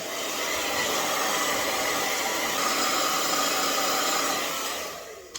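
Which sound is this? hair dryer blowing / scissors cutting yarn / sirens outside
hair dryer blowing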